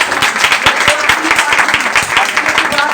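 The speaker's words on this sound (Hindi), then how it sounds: "जोर से तालियां बजाएंगे" Church congregation at a Sunday meeting claps loudly together, a fast, rhythmic wash of many hands with sharp individual claps standing out, while a voice talks over it.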